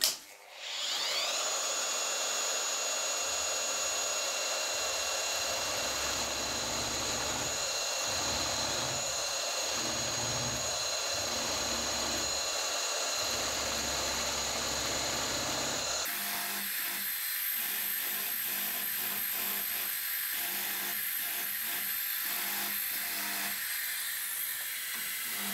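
A power scraper fitted with a wide carbide blade, set to a 12–13 mm stroke, grinds steadily across a metal angle plate, a continuous loud buzzing rasp with rhythmic strokes that shifts in tone about midway through.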